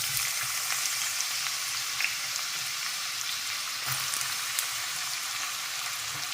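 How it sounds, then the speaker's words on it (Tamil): Onions dropped into a pan of hot oil fry with a steady, dense crackling sizzle, close and continuous with occasional sharper pops. "வானல் வச்சுட்டேன், எண்ணெய் ஊற்றிட்டேன், காஞ்சிடுச்சு. இப்போ வெங்காயத்தை போட்டுரும்."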